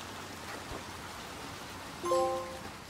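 Steady rain falls in the video game Little Nightmares II, a soft, even patter that stays constant throughout, with a brief faint tonal chime rising near the end.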